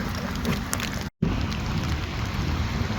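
Dense patter of rain mixed with hail and snow hitting a surface nearby at the Tardebigge lock flight, steady and fairly loud, with a brief dropout near the start.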